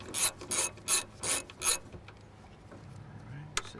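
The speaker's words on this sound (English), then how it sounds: "Then just break out a 10mm little socket and ratchet." Five quick ratcheting bursts from a 10mm socket and ratchet working bolts free, close and distinct, followed by quieter handling noise and a small clink.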